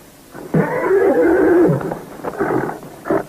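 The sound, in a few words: horse neighing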